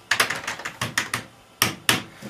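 Keys pressed on an old computer keyboard, loud close clacking strokes in short irregular bursts with brief pauses between them.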